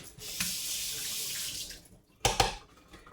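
A potato masher is rinsed under a kitchen sink tap: a steady hiss of running water for about two seconds, a brief pause, then a louder splashing burst, close by with no talk.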